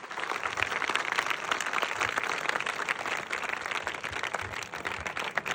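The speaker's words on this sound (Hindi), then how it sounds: "तो एक बार जोरदार तालियां भाई के लिए बजा दीजिए।" An audience claps for a performer at a village stage program, a steady, fairly distant patter of many hands continuing evenly from start to end, with no talk over it.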